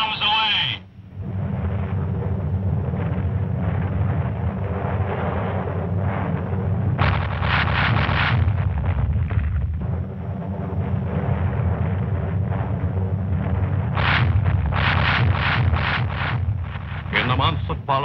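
Bombs explode in a World War II bombing raid as a steady, rumbling roar of blasts and heavy low thunder, with someone talking over it.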